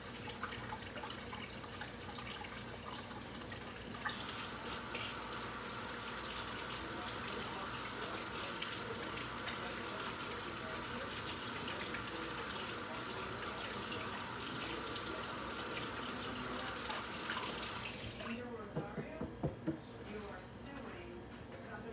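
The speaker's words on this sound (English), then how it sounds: "let me wash my hands" Hands are washed under a running kitchen tap while dinner is prepared: water gushes steadily for most of the stretch, then cuts off, leaving a few soft clicks and bumps, with a voice talking now and then.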